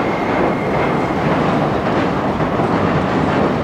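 A slow-moving train with steady low rumble and continuous light clanking and rattling of the cars, close and fairly loud throughout, with no voices.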